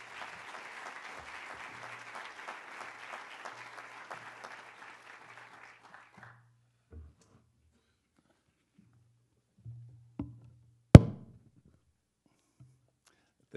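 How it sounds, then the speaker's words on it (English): An audience at an evening talk gives a round of applause for two distinguished speakers, moderately distant and soft, lasting about six seconds before fading into a quiet room with a few faint shuffles and a sharp knock. "let's have one more round of applause for our two distinguished speakers"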